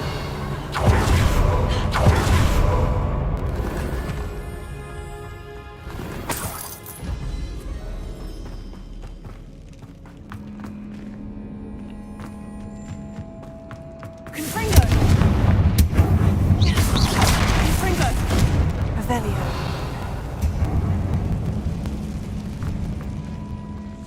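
Fiery explosive spell effects in Hogwarts Legacy: a loud, roaring blast opens, fades into a quieter stretch of low ambient hum and tones, then a second heavy booming burst erupts midway and rumbles on, with no talking.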